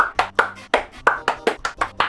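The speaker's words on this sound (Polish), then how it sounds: "Także brawa dla wszystkich" About a dozen sharp, close hand claps in an uneven rhythm, dry and distinct, with a faint low hum behind them.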